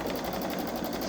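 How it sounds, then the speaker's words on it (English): A Babylock Solaris Vision sewing machine stitches an edge-to-edge snowflake quilt design, giving a steady, rapid, rhythmic mechanical hum that runs without a break. "as you can see, it's stitching out the snowflake design"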